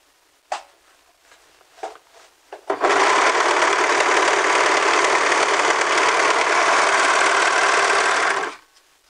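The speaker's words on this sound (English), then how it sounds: "I'm just going to stitch, and you will see that it's going to finish and cut off the end of the fabric at the same time" A few light clicks come first, then a serger starts stitching and trimming a fabric edge with a loud, fast, even mechanical whir. It runs steadily for about six seconds before stopping abruptly.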